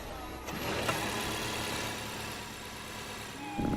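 A car engine in the Roblox driving game Greenville runs steadily at a constant idle-like drone, loud and continuous, with a brief change near the end and no speech.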